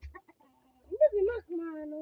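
A chicken clucks a few short times near a village sleeping spot, followed by a longer drawn-out call, close and clear with little background noise.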